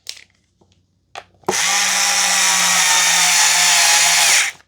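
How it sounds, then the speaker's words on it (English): A power driver runs a screw into a WORX 20V cordless string trimmer during assembly, a loud steady whir lasting about three seconds after a few soft clicks and taps. "Now we can take that screw and install that screw."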